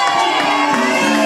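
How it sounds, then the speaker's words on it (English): A live crowd at the Rumpus Room, during a Black Jake & the Carnies show, cheers and whoops for a young volunteer named Aaron in a short, loud burst of voices. "Give him a big round of applause."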